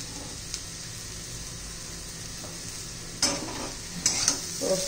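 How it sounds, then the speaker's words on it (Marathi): Bitter gourd is fried and stirred in a pan with crushed roasted peanuts, a little jaggery and coriander. A soft continuous sizzle runs throughout, broken by a few louder scraping stirs of a spoon near the end. "व्यवस्थित मिक्स करायचे."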